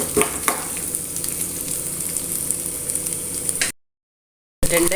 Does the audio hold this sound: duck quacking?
no